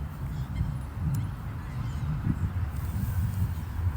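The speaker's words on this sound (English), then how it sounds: "These seagulls." Seagulls calling outdoors, a few faint honking cries scattered over a steady background rumble of wind, no talking.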